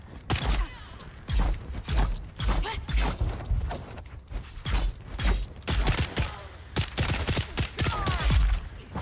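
Rapid bursts of gunfire in the video game Dune: Awakening, a dense, loud fusillade of repeated shots with metallic clanks, nearly continuous across the whole stretch with no talking.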